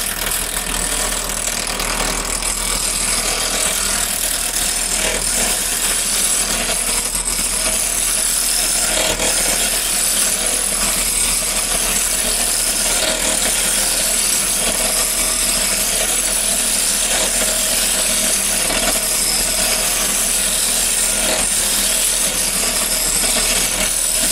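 A wooden workpiece spins on a lathe while a hand-held cutting tool shaves across it, giving a loud, steady, continuous whirring scrape with no pauses.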